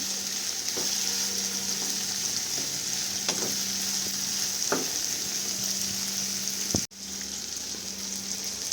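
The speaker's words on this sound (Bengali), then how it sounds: "তারপর সব সবজিগুলোকে ভালো করে আমি মিক্স করে নেব।" Vegetables stir-frying for spicy semolina, a steady close sizzle with occasional scraping stirs and soft clacks of a utensil against the pan, no voices.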